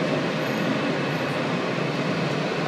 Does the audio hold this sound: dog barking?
no